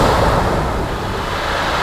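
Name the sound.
sea waves breaking on a steep shingle beach in a storm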